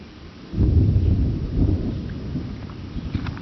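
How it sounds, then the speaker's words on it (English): A full thunderstorm breaks with a deep, rolling thunder rumble that swells after a brief quiet start and then slowly fades, backed by a steady wash of falling rain. "That's a full-blown thunderstorm."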